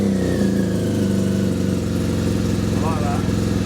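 BMW R1250 GS motorcycle with an Akrapovic titanium exhaust, baffles removed, running close by with a steady deep engine note and a slight rise in revs, under some faint talk.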